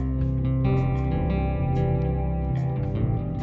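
An acoustic guitar played through an electric guitar distortion effect sounds sustained, buzzy chords with a thick, saturated tone, loud and continuous with no voices.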